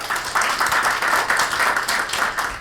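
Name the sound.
applause welcoming party leaders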